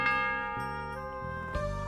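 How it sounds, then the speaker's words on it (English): The town bell in the video game Age of Mythology rings with sustained metallic tones, a few struck notes layered and fading, with no talk over it. "Protect your villagers by ringing the town bell."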